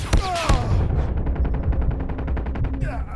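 Rapid automatic gunfire in the mobile shooter Call of Duty Mobile, a dense burst of sharp repeated shots that runs nearly the whole moment, loud and close, with game sound effects mixed in.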